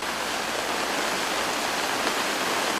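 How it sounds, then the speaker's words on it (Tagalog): Heavy rain pouring at San Vicente Cemetery in Sagbayan, Bohol, a dense, loud, unbroken roar of water lasting the whole stretch with no voices. "Bumuhos naman ang ulan sa San Vicente Cemetery sa Sagbayan"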